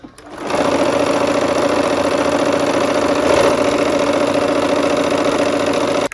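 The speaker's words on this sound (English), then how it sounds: "now we're gonna go ahead and sew these seams" Steady, close whir of a sewing machine stitching quilt seams, running continuously for several seconds after a brief start-up, with no talking.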